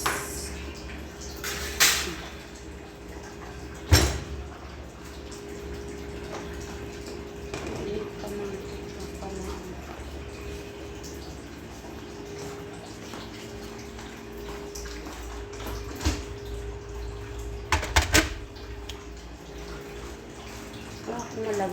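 Dishes are washed under a running tap after a meal, a continuous rush of water with a few clinks and knocks while a person speaks now and then.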